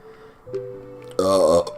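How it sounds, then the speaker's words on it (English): A loud, drawn-out burp that rises and falls in pitch for about half a second, preceded by quieter throaty sounds, with no talking over it. "I got nasty burps"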